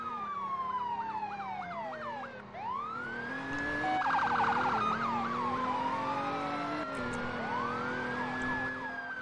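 Wailing ambulance siren in the Liberty County emergency-services game, loud and close, cycling through fast yelps and slower rising and falling wails with no voices.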